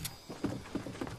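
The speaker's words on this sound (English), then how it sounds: "you can hear his footsteps in there" An enemy player's footsteps in a video game land as a few soft, evenly spaced thuds, faint and close together.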